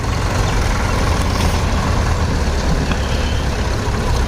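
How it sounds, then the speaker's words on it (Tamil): Heavy tractor engines rumble loudly and continuously, with a dense low drone of tractors driving close by into a sugar mill. "எல்லா டிராக்டர்ஸும் உள்ளே போகுதுங்க"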